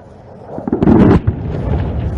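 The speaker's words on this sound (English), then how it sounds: "He's locked on to the target. Bombs away." Aircraft bombs detonate on a target during the Vayu Shakti firepower demonstration at Pokhran range, Rajasthan: a loud, rumbling blast that swells over about half a second and then rolls on as a long low roar, heard at a distance.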